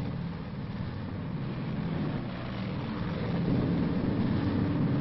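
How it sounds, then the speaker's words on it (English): B-29 bombers roar up from air bases on Okinawa, a steady, dense engine drone that swells slightly louder toward the end, heard alone without speech. "Day after day, plane after plane, the B-29s roared up from their Okinawan bases."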